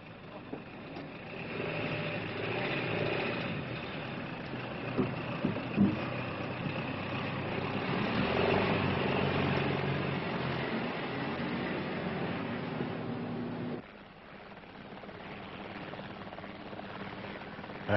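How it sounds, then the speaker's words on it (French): Military vehicles in a convoy drive past in Guinea during the colonial war, a muffled, steady engine rumble with a few knocks, dropping to a lower drone near the end. "Après, il faut rouler en convoi."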